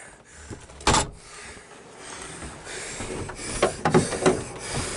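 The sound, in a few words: closing the cabin door of a sailboat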